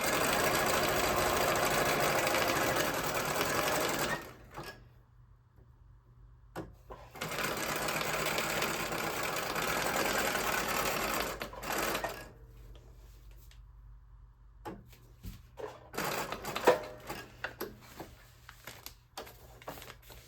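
A sewing machine stitches through fabric for a garden-themed junk journal cover, running in loud sustained bursts with short pauses between runs, the motor hum returning after each stop near the mic.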